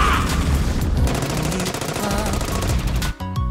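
Rapid weapon fire from an anime mecha trailer, a dense loud burst of shots under a driving music score that cuts off abruptly near the end.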